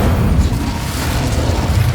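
The Incendio fire spell in Hogwarts Legacy gives a deep, rumbling whoosh of flame, loud and continuous, with a low roaring body that holds steady throughout.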